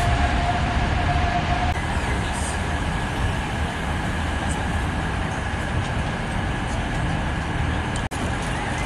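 Steady rumbling hum fills the interior of Antwerp train station at night, a constant broadband station and rail ambience with a few faint clicks and one sharp knock near the end, no voices.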